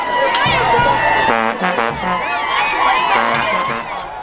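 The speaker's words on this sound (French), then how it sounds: "Les youyou donnent la cadence" A large street crowd in Cameroon welcoming the returning sultan on foot sends up high, warbling ululations mixed with cheering and shouting, loud and close, overlapping voices rising and falling continuously.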